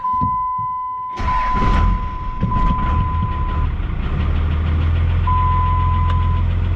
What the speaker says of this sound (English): let's see her start